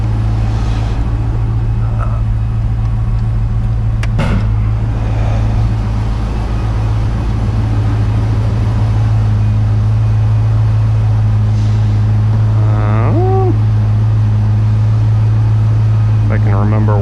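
A classic 5-liter high-output car engine idles after a cold start in winter, a steady, loud low drone that holds evenly throughout, with a few faint brief sounds on top.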